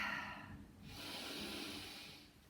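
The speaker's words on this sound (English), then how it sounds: "Taking a deep breath in through the nose." A slow, deep breath is drawn in through the nose during a Pilates foam roller stretch, a soft airy hiss that swells after a brief pause and then eases off, close and quiet.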